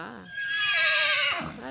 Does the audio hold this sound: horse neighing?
yes